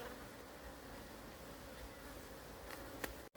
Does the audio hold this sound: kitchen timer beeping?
no